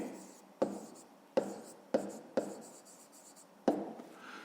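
Pen or pencil writing on paper close by, with short scratchy strokes broken by five sharp taps as the tip lifts and lands again, steady and quiet with no talk.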